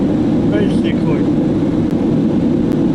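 Steady, loud jet afterburner roar from a flight simulator game, a constant broadband rush filling the whole stretch with brief faint voice traces near the start.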